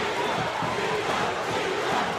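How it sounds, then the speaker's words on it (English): A boxing arena crowd at a world light flyweight title fight, on its feet and roaring in a dense, continuous wall of cheering and shouting that stays loud and close throughout. "the entire crowd is on its feet, cheering Ivan"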